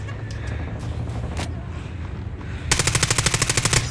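Rapid automatic gunfire and sniper shots in a multiplayer shooter video game, a dense burst of regular shots in the second half over steady game background noise.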